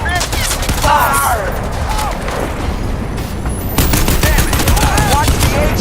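Heavy machine gun fire in the shooter game Crysis 2 Remastered, a dense, loud stream of rapid gunshots in an urban firefight, with shouted voices and battle noise mixed in throughout.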